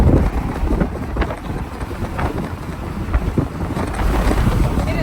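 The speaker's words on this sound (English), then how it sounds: "It is so windy out." Strong wind buffeting the microphone outdoors beside a lake, a loud continuous rumbling roar with gusty swells throughout and no clear talk.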